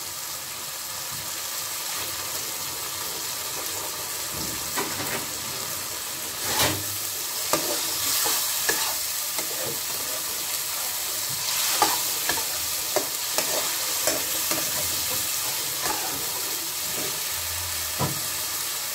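Chili powder, cumin and coriander powder fry for a cauliflower egg curry, giving a steady sizzle with scraping stir strokes and occasional clinks from the spoon against the pan.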